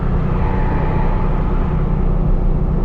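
A Porsche 996 GT3 Clubsport is driven and heard from inside the cabin, its engine a steady, loud, low droning rumble with no breaks.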